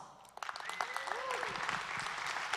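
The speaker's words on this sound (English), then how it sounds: "Please applause." Applause from a conference audience at a DCENTRAL event in Austin, rising quickly into a steady, dense patter of clapping that holds to the end, with some voices mixed in.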